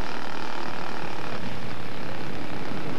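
Radio-controlled scale model airplane coming in to land at a scale flying contest, its engine a loud, steady, buzzing drone throughout with no talking.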